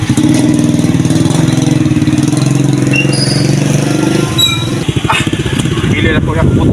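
A motorbike engine fires up and settles into a steady idle, loud and close, with someone speaking over it and a few sharp squeals and clatters near the end.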